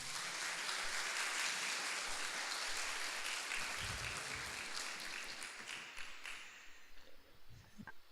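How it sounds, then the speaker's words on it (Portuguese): A church congregation applauds loudly and steadily for several seconds, a dense continuous clapping that thins and tapers off toward the end. "Aplauda Jesus bem forte."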